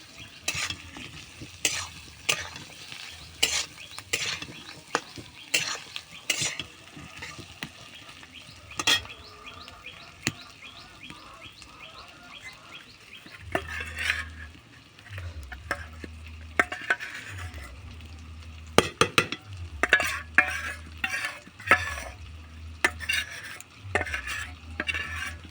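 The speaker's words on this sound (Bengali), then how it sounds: "ভালো করে নেড়ে নেব।" Meat khichuri stirred and frying in a pot with Eid meat and potatoes, the spoon scraping and clinking against the pot again and again over a continuous sizzle.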